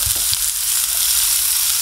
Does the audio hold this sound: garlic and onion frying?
yes